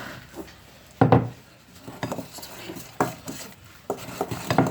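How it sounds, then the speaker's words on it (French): A wooden spoon mixes choux pastry cream in a bowl, giving irregular knocks and scrapes, with one louder clack followed by steady, lighter tapping strokes, close up. "toujours avec une cuillère en bois. Et il faut mélanger jusqu'à ce que le mélange blanchisse."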